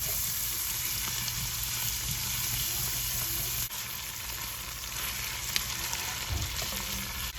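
Sausage and vegetables sizzle steadily as they sweat down in a pot, a constant close frying hiss with no voices.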